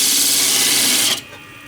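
Wood lathe spinning a cracked, spalted maple bowl blank mounted on a faceplate at 1200 RPM, a loud steady whirring hiss that cuts off abruptly near the end, leaving a quieter hum.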